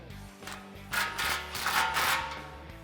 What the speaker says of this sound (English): now we can tighten down our muffler clamp.